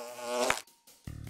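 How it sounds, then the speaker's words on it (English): Bees buzz in a Ben 10 video game, a short, faint droning hum with a sudden cut and a brief return. "Oh, bees!"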